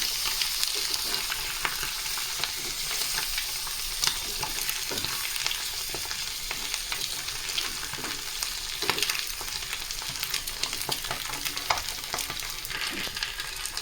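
Eggs frying in a pan with chili powder and salt, a steady close sizzle with scattered crackles and stirring scrapes throughout, no voices.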